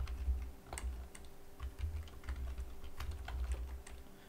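Fingers type on a computer keyboard in uneven bursts of light clicks over a low steady hum, close and quiet.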